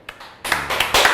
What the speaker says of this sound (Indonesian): nepok nyamuk nih Pak